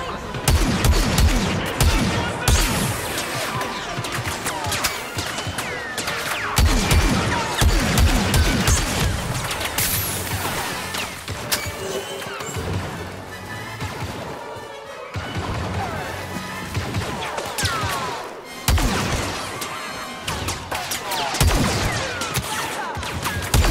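Gunfire in Star Wars Battlefront 2 on Xbox One X, with dense bursts of blaster shots and impacts throughout, loud and busy, and a voice briefly heard among the shooting.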